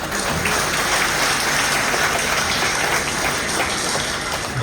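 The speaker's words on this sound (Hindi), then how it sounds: "जोरदार तालियां हो जा" Steady, dense applause from an audience at a stage drama performance, sustained and even for several seconds with no voices over it.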